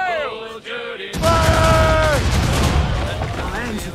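Ship cannons fire in a loud volley during a naval battle in Assassin's Creed: Rogue, booming bursts under a crew's sea-shanty singing and game music.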